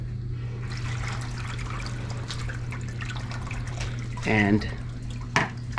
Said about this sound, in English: Oh, there comes the air. Look at all that air coming out. You can hear it.